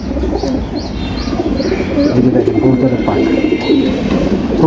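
Pigeons cooing steadily in a loft, with a low, rolling coo repeated close by over a busy background, and a few higher chirps on top.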